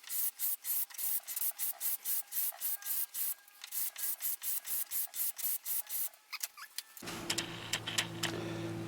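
Steady rhythmic rasping strokes of hand-sanding a wooden seven-string guitar fretboard with a radius block, about two per second, close and fairly loud, then the scraping gives way to a duller rougher rubbing.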